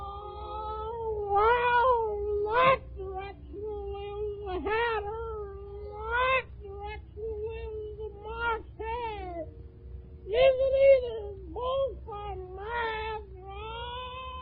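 A Cheshire cat in an Alice in Wonderland radio drama, voiced as a string of drawn-out, wavering meows and yowls that rise and fall in pitch, close and fairly loud, repeating throughout over a faint low hum.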